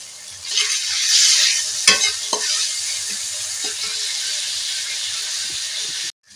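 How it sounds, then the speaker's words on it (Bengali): Garlic paste frying in a pan for a spiced meat curry gives a continuous close hissing sizzle, broken by a few scraping knocks from stirring, before cutting off abruptly. "এই রসুন বাটাটা দিয়ে দিচ্ছি।"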